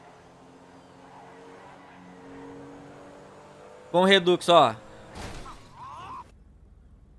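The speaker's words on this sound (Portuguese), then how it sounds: "ele vai fazer a mesma batida com o Redux" A car crashes in GTA 5 running the Redux mod, with a low engine drone and faint tire noise in the background, then someone speaks briefly over it and the scene fades out.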